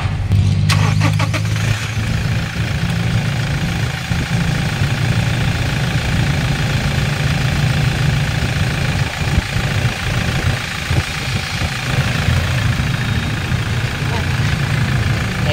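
A Toyota Innova 2.8 engine cranks and catches after a short starter whir, then settles into a steady low idle that runs on close by, with people talking over it now and then.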